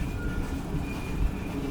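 Karakoram Express passenger train running between Rohri Junction and Tando Adam in Pakistan, heard from inside as a steady, continuous rumble with a faint high whine and no voices.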